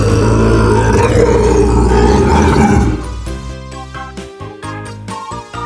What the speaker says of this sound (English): Lynx.